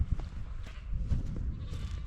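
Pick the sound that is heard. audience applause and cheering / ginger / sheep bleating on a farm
sheep bleating on a farm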